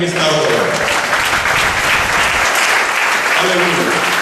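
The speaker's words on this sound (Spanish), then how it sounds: "Aplauda al Señor en esta hora." A church congregation claps steadily and loudly throughout, a dense, continuous wash of applause with voices mixed in.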